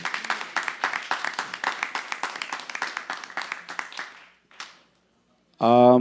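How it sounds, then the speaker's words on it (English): Small gathering claps in a steady rhythm of distinct hand claps for the temple pujaris at a Sunday feast, tapering off after four seconds, with a brief burst and a loud voice entering at the end. "let's give a big round of applause to our dear pujaris who have done a wonderful dressing today"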